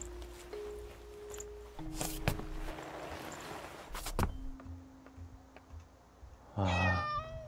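In the Layers of Fear game, a cat meows once, loud and close near the end, after quiet clicks, knocks and a faint hum.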